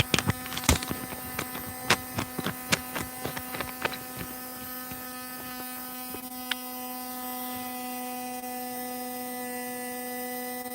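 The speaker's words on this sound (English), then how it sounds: "right now I have it on the dyno without the rear axle, and I'm running it at about 5 volts" A Viper VSPEC RC car motor spins on a dyno at about 5 volts with the rear axle removed, giving a steady electric whine and hum with rapid clicking bursts early on that settle into an even drone.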